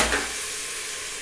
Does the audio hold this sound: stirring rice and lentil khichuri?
yes